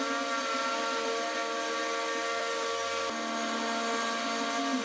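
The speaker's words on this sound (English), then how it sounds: "I have a new piece of aluminum and this 1/8 inch bit, and we should be able to cut that out." Constant high-pitched whine of a milling machine cutting aluminum with a 1/8 inch bit, a steady tonal drone with a slight shift partway through, no voices.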